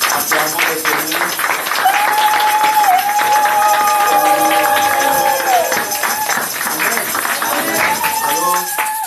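A church congregation at a Sunday service applauds and cheers in steady, dense clapping that lasts throughout, mixed with voices and a sustained sung or shouted tone.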